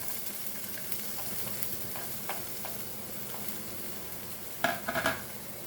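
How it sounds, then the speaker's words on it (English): Onion frying in refined vegetable oil in a pan for Goan shark ambot tik, a soft steady sizzle with a few brief louder crackles and stirring scrapes near the end. "आता ह्यो कांदो आमी हितून बरो भाजूया"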